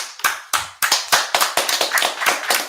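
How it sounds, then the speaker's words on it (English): Hands clap in a quick, uneven run of about a dozen sharp, close slaps, loud and alone with no talking. "Just clap it up"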